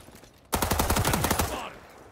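Rapid automatic gunfire in an online multiplayer shooter, a loud burst of fast repeated shots starting abruptly and rattling on for over a second before trailing off, with no talk over it.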